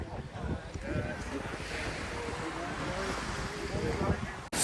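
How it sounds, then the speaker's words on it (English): Surf rolling onto Grand Anse Beach in Grenada, a long Caribbean beach, heard as a steady wash of waves mixed with wind buffeting the microphone, with faint voices in the background. "This is Grand Anse Beach."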